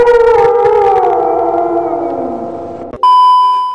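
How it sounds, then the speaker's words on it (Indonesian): A dog howling loudly and close, one long wavering tone sliding slowly downward for about three seconds, then cut off by a different sharp tone. "Siapa sih yang belum pernah mendengar suara lolongan anjing?"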